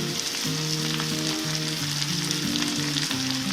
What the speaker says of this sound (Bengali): আলু আর পেঁয়াজগুলি মোটামুটি ভাজা হয়ে গেছে